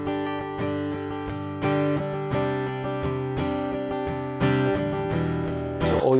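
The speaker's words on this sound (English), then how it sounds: "So all you're hearing there is a guitar" Dry acoustic guitar loop from a looper pedal, with steady strummed and picked chords repeating evenly at close range with no one talking.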